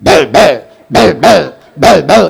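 A voice imitates a dog barking, giving three pairs of sharp, loud "bow-wow" barks in a quick rhythm with short pauses between each pair.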